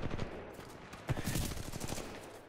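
Gunfire in the video game Titanfall 2, a rapid burst of punchy shots at moderate level with a few sharper cracks, alone without talk.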